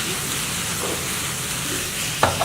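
Basil cream sauce cooks in a hot pan, giving a steady soft sizzle and bubble throughout, with a brief clink of utensil near the end.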